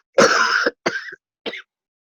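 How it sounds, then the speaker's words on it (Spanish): A woman coughs three times during a spoken lecture. The first cough is the longest and loudest, and two shorter, weaker coughs follow with brief gaps between them. No talk is heard. "perdonad por la tos"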